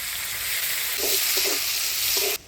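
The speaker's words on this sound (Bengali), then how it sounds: "দিয়ে দিচ্ছি পেঁয়াজ কুচি" Chopped onions fry in oil with dry red chillies, bay leaf and whole cumin for a Bengali fish curry, giving a steady close sizzle with a few soft stirring knocks on top.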